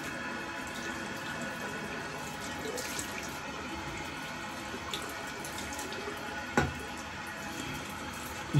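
Tap water runs steadily into a sink being rinsed out, a continuous close splashing hiss with one brief sharp knock near the end.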